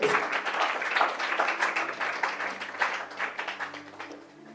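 A church congregation clapping and applauding in praise at a Bible teaching session, steady dense applause that stays loud throughout and tapers off toward the end.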